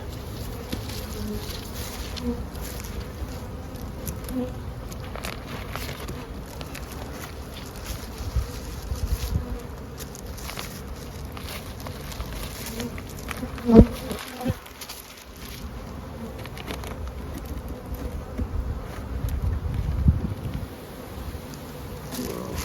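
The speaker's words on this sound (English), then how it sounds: "when your hat falls off inside your veil and you're covered with bees" Honeybees swarm around a beekeeper's veil with a dense, continuous buzzing hum, close and steady throughout, broken by a single sharp knock midway.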